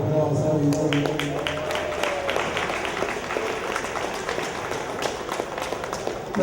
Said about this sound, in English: Ladies and gentlemen, please give our fighters a round of applause